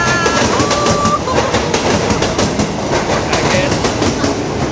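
A train rumbles past close by a trackside snack stall, with rhythmic clattering of wheels and a brief thin squeal over the steady roar.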